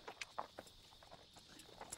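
Hooves of a horse clip-clop in soft, irregular steps at low level, with faint background ambience and no talk, in a French-dubbed war film scene where the horse is being led to the stable.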